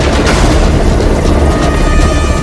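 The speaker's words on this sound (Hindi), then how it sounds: "हेलीकॉप्टर से एक रस्सी फेंकी गई।" Rescue helicopter hovering overhead, a very loud, close rotor roar with rapid thudding blade chop, continuous and unbroken, no voices.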